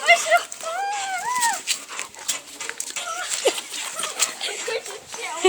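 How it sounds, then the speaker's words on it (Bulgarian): A dog whimpering in high, wavering whines, several drawn-out cries close by, with people talking loudly over and between them. "Не! Лошо куче!"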